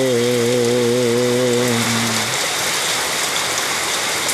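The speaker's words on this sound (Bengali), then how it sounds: "কি সুন্দর গরে বৃষ্টি ঝরে দেখিতে বহুত মজা" Steady rain falls throughout, a dense, even hiss of drops close by, with a sustained droning tone in the first half that fades out partway.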